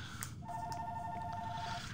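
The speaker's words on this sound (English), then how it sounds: "I get a phone call again" Electronic telephone ringtone trilling in a steady repeated pattern for an incoming call, fairly clear over a low background hum, no talking.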